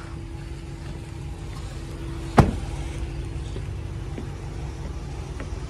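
A loud water pump runs inside a pump house, a steady droning hum with a low tonal whine, broken once by a single sharp knock midway.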